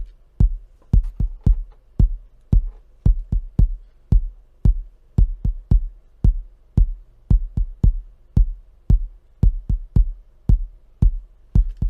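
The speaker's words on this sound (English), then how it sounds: "The kick sounds this way." A punchy kick drum from an FL Studio Afro-house beat thumps in a steady four-on-the-floor pattern with occasional doubled hits, loud and close with booming low end and sharp clicky attacks, no voices.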